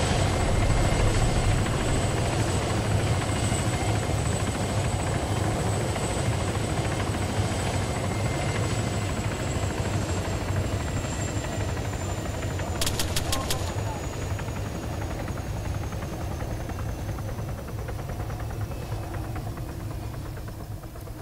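A helicopter in a video game drones loudly and continuously with a pulsing rotor beat from start to finish, a brief burst of sharp bangs midway, and voices talking over it.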